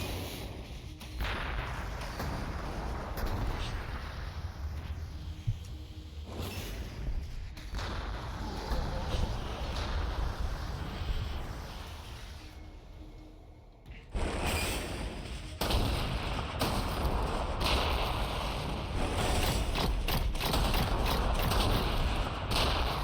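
Battlements and cannons firing during a battle in the Warhammer 40K Gladius strategy game, heard as dense, continuous booming and thudding gunfire that fills the whole stretch with a short lull midway, alongside game effects.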